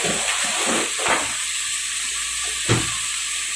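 Mixed vegetables and green peas for a Bengali potato curry, aloo dum, sizzle steadily in a pan on the stove, with a few soft scrapes and clacks from stirring nearby.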